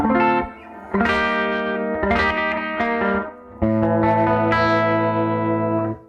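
Overdriven electric guitar with humbuckers through a 1968 Fender Princeton Reverb tube amp, chords ringing out with a warm, saturated tone, played in sustained bursts with brief pauses between them.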